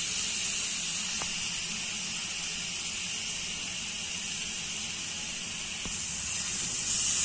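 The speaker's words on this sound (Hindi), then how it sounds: "अब उसी घी में हम अपना जो हमने बीटरूट किया था कद्दूकस वो डाल देंगे। इसको हमें हल्का सा फ्राई करना है" Grated beetroot fries in hot ghee with a steady, close sizzling hiss that stays even throughout and swells slightly at the end.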